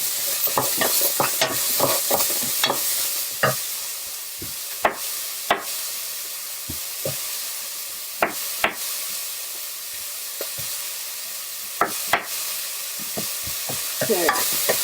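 Cored apple pieces are stirred in a hot pan, sticking slightly to the bottom, giving a soft steady sizzle broken by sharp irregular scrapes and taps of the spoon against the pan.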